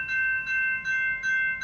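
A CPKC freight train passing at night in West Toronto sounds four evenly spaced, steady tonal blasts in quick succession, fairly loud and clear over quiet surroundings.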